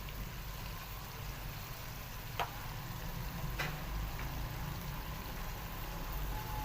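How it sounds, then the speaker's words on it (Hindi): Capsicum and potatoes frying in spices for aloo shimla mirch give a steady, even sizzle and hiss throughout, with a couple of faint clicks from the pan. "अब ये अच्छे तरीके से मसाले के अंदर फ्राई हो जाएंगी और आलू भी इसी के अंदर डाल देंगे।"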